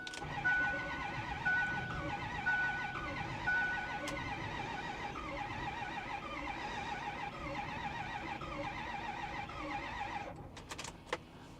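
A 2010 Ford F350 with a 6.4 Powerstroke diesel cranks on low batteries, the starter whirring in a steady, labored rhythm for about ten seconds before cutting off, followed by a few faint clicks and knocks.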